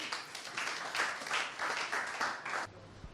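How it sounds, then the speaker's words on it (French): Applause from an audience at an evening afterwork gathering, a steady patter of many hands clapping at moderate distance, swelling slightly in waves before cutting off abruptly near the end. "Donc j'aimerais qu'on l'applaudisse quand même."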